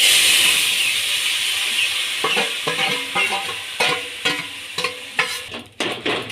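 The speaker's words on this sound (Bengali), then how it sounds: "একটি শুকনো লঙ্কা ভালো করে ভেজে নিয়ে ওর মধ্যে নামিয়ে রাখা তরকারিটা দিয়ে দেব" Dried red chilli and panch phoron fry in hot oil with a loud steady sizzle, then cooked drumstick-flower curry goes in and is stirred, bringing a run of sharp spatula scrapes and clatters over the hiss.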